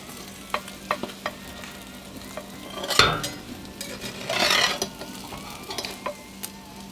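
Food frying in a pan that is shaken back and forth, giving a steady sizzle under scattered metallic scrapes and clinks, with a louder rattling burst midway and a longer scraping rush after it.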